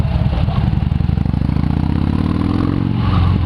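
Harley-Davidson motorcycle engine fitted with a custom exhaust, a loud close-up idle with a rapid, even low-pitched thump that swells slightly as the revs rise, heard alone without talk.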